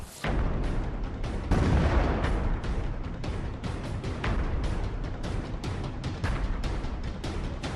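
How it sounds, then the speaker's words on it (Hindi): Russian artillery shelling near the Zaporizhzhia nuclear plant, a dense barrage of loud booms and crackling bursts following one another rapidly for several seconds. "ये पहली रोशनी रूस की तरफ से हुई गोलाबारी की ही है।"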